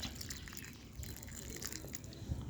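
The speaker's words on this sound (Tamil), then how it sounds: "இந்த பாருங்கள், இது போல் தண்ணி ஊற்றி வரணும்" Water poured onto a newly planted kanakambaram (firecracker flower) plant, a faint, steady trickle and splash with scattered drips, fairly quiet and with no talking.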